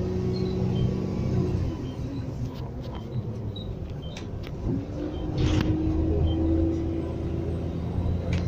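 Steady interior rumble of a Quaylink Q2 bus while riding, a continuous low engine and road drone with a rising gear whine midway and faint rattles, no voices.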